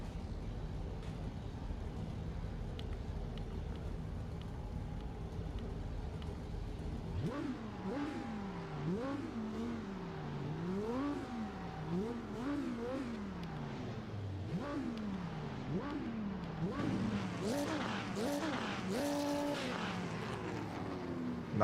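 A GT1 race car engine in the Automobilista 2 racing game revs repeatedly, its pitch rising and falling in quick sweeps before climbing toward higher revs, heard alone and fairly quiet after a stretch of low idle.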